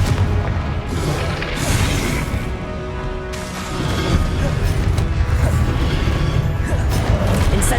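Fire spells Incendio and Confringo cast over and over in Hogwarts Legacy on PC, a dense, steady barrage of loud booming blasts and crashes that runs without a break.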